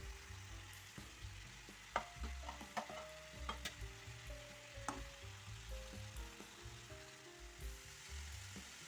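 Chicken fillet, dill, tomatoes and vegetables being stirred in a frying pan, soft sizzling under repeated scrapes and knocks of the utensil against the pan, quiet and close, without speech.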